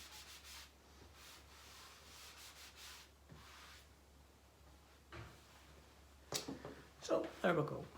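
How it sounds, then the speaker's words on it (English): A small sponge wipes excess wallpaper paste off a freshly hung lining paper in soft, close rubbing strokes, followed by a few louder bumps and a voice near the end. "just get the wee sponge, wipe off the excess paste"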